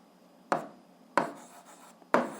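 Someone writes out an eighth-grade algebra expression by hand, making three short, scratchy strokes spaced about a second apart, close and fairly quiet with no talking.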